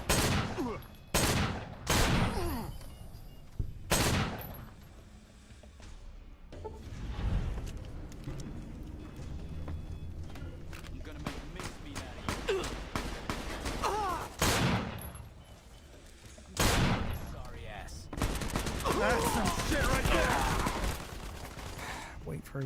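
Repeated gunfire bursts from a gun in Fallout: New Vegas, loud sharp shots spaced irregularly with a heavy volley near the end, amid game ambience and a player talking between shots.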